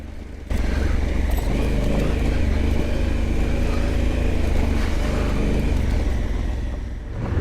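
A Honda Africa Twin DCT motorcycle rides off-road on gravel, its engine a steady, loud drone mixed with rushing wind and crunching gravel throughout, with no voices.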